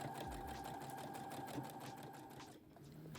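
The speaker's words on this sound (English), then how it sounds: "we're going to sew along the edge of the tape" A sewing machine stitching fabric along the edge of tape for a bias-cut skirt, with a fast, steady mechanical whirring hum close by and faint, continuous, then briefly easing near the end, with no talking.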